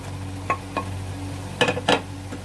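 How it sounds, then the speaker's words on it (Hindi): Tomatoes going into keema frying with bhindi and whole coriander in a pan, a steady low sizzle under light spoon clinks and a couple of brief stirring scrapes, no talking. "अभी मैं टमाटर डालूँगा।"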